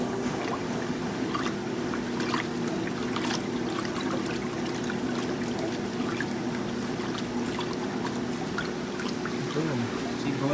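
Maytag washing machines filling with water, a steady rushing pour with trickling splashes and a low machine hum running continuously throughout, with a voice talking over it.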